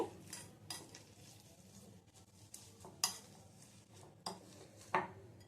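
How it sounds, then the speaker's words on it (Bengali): Boiled potatoes, two of them, mashed with a potato masher in a bowl, heard as a series of soft, squelching presses and occasional clacks of the masher against the container, spaced irregularly and fairly quiet. "একটা ম্যাশারের সাহায্যে আলুটা একটু ম্যাশ করে নেব"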